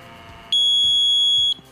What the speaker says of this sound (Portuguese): Virou um alarme bem alto